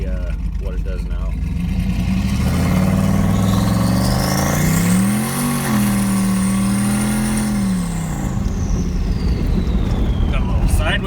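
Car with a manual boost controller turned up three notches accelerating hard, engine rising in pitch through a long pull, easing briefly, then climbing again, loud and close, with a turbo whine sweeping above it.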